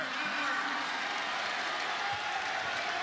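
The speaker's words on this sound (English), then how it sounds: "And the crowd does come alive inside Reed Green" Crowd cheering and applauding inside Reed Green arena at a college basketball game between Western Kentucky and Southern Miss, a steady broad roar that holds for a few seconds.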